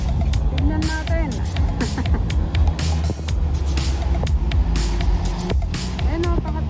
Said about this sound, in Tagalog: Ayan o, pang-apat na fire truck.